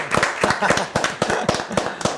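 Dense crowd applause for women's football, a rapid, continuous patter of many hands clapping close by, with a voice or two mixed in underneath.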